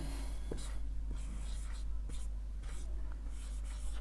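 A maths solution is written out during a Hindi-language Class 10 lesson, with faint, scratchy strokes coming in short bursts over a steady low hum.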